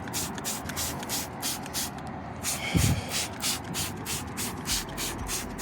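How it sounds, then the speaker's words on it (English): Rapid, rhythmic bursts of a spray bottle hissing close up, spraying cleaner onto a K&N air filter, repeated steadily with a short pause and a soft thump midway. "We're gonna spray it on there, that way it cleans all this grime out."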